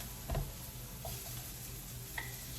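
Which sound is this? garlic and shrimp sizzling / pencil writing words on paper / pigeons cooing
garlic and shrimp sizzling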